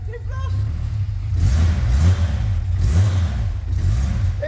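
A car just added to a fleet, its engine running after a start attempt, rumbles with deep low revs under excited voices talking close by.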